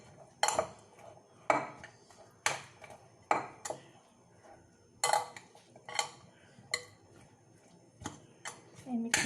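A utensil mixes tuna, mushroom and egg sandwich filling in a bowl at home, making repeated clinks and scrapes in a steady rhythm, with someone talking now and then.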